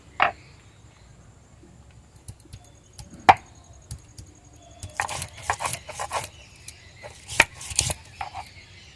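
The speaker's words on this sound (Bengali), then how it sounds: "এখন আমি বেটে নিচ্ছি সব কিছু" Garlic, onion, ginger, coriander, cumin and black pepper being ground by hand on a grinding stone, heard as scattered rubbing, scraping and knocking strokes, sparse at first and then denser and more rhythmic, fairly close, with no talk.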